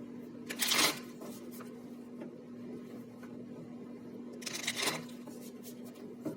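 Tarot cards being shuffled in two short bursts of riffling, one near the start and one later, with a quiet room between them and no talk.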